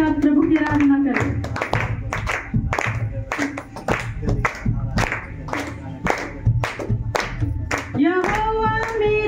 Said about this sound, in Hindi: सभी जन तालियों के साथ प्रभु की आराधना करें।